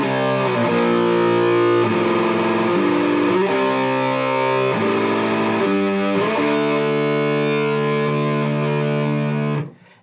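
Distorted electric guitar plays the intro rhythm part of a song, loud sustained chords shifting in steady phrases for about ten seconds before cutting off abruptly at the end.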